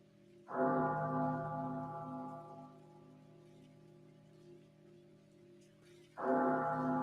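Two deep bell tolls ring out, each struck sharply and then humming with a long, slowly fading resonance in a quiet space.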